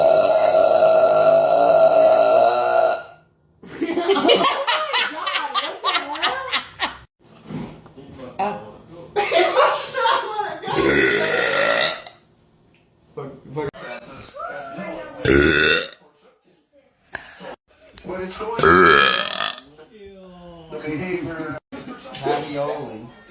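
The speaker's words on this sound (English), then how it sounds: "Here we go. 3-second burp." A woman burps loudly several times in a row, long croaking belches with short gaps between them, and people talk and laugh in the pauses.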